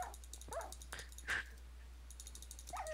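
A dog in a video game whimpering and yipping in short, thin cries spread across a few seconds, heard over a steady low hum with no talking.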